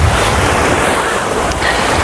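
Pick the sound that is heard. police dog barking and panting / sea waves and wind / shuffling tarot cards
sea waves and wind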